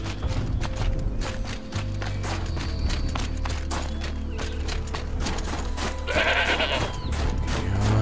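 A goat bleats in the Frozen Wilds area of Horizon Zero Dawn on PS4, a few short bleats near the end over steady game ambience and footstep-like clip-clops.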